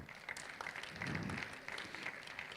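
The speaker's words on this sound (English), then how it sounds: "Huge round of applause to Deepak Mathur sir." Audience applause at an IEEE Education Leadership Summit at an engineering college, a steady patter of many hands clapping at moderate distance, fairly faint and continuous throughout.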